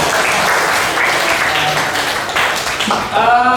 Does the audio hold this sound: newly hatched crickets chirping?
no